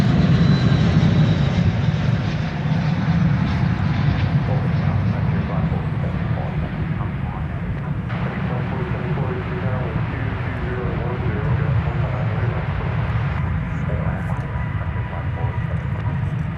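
Spirit Airlines jet arriving from Las Vegas at DFW Airport, a loud continuous engine roar close by that holds steady, with a voice talking over it.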